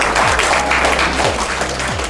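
An audience applauds at a launch event for 75 years of book publishing in India, dense continuous clapping filling the room, fairly loud and close.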